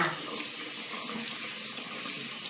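Steady shower water running and splashing while a person wets their body before using a shower gel, a continuous close hiss throughout with no talking.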